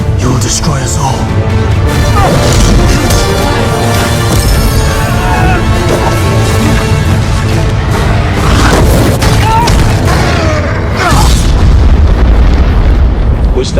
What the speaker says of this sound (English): Was that an earthquake? That, my lad, was a dragon.